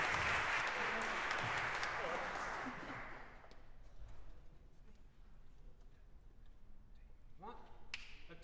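Audience applause for a vocalist at a Nashville Unlimited Christmas concert, a loud burst of clapping that fades over a few seconds, then quiet room sound with faint taps.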